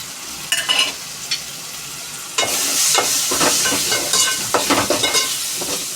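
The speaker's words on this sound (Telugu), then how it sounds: "దీన్ని కూడా వేగనిద్దాం. అన్నీ బాగా వేగిపోయండి." Fish seasoned with salt, chili, turmeric and garam masala fries loudly in a pan, a strong continuous sizzle broken by repeated scraping stirs, with no talking.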